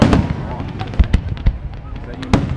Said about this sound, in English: How many fireworks are there coming?